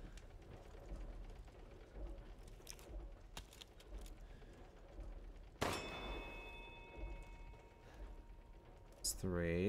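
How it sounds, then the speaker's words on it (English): A chamber bell in Resident Evil Village rings with a bright, sustained metallic clang that hangs and decays, followed by another clang near the end, over quiet game ambience. "Let the five bells of this chamber ring out."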